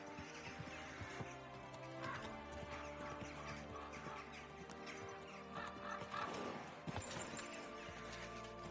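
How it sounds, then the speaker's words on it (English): A horse whinnies amid a dense, busy mix of sounds in the video game Kingdom Come: Deliverance II, with a steady bed of noise and scattered clatter throughout. "Easy, good horse."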